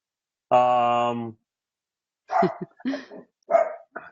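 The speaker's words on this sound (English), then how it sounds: "You're going to make my dog start barking. Yeah, she's barking." A pet dog barks indoors at home: a sustained harmonic bark or howl near the start, then a burst of several sharp, loud barks close by, with brief silence between.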